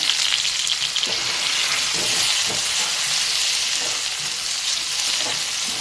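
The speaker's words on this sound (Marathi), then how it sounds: "टोमॅटो पण थोडंसं ह्याला भाजून घेऊया." Tomatoes roast and sizzle in a pan over a lowered gas flame while a spicy brinjal dish is prepared. A loud, steady frying hiss continues throughout with no voices.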